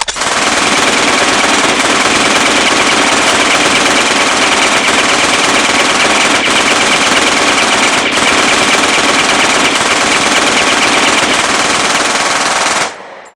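Dense, continuous blaster fire from a Star Wars battle rattles nonstop for about thirteen seconds, loud and close, then cuts off abruptly.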